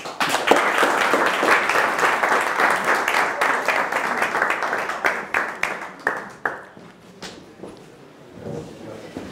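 Applause from the audience at the final of an international opera singing competition starts as a full, dense wash, then breaks up into scattered individual claps before dying out.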